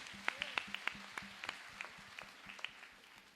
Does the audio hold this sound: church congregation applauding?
yes